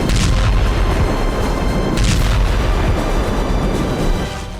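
Heavy blasts from glide bombs striking the right bank of the Dnieper at Kherson, a dense, continuous roar of booming explosions with sharper bursts layered on top, loud and sustained throughout.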